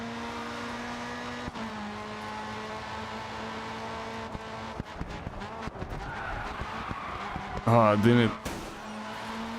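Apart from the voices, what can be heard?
car drifting with tire skids, video game GRID 2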